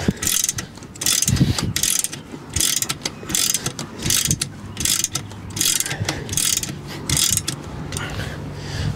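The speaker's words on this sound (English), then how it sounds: "So we're going to just keep cranking here." A hand crank raises the roof of a Starcraft pop-up camper, giving steady rhythmic ratcheting clicks in repeated bursts with short pauses, loud and close, with no talking.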